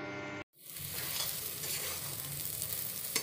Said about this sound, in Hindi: हरा मटर के पेस्ट को बहुत ही अच्छे तरीके से भूनना है